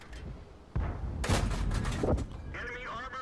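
Tank cannon fire in the World of Tanks video game: a sudden loud blast followed by a dense volley of booming shots and rumbling impacts for about a second and a half, then fading into lighter game effects.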